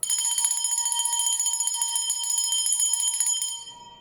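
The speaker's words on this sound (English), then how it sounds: "I'm going to ring the bell to dissipate any dark energies or dark forces" A single bell rung in a spiritual cleansing ritual, struck once and ringing bright and steady for several seconds before fading out alone.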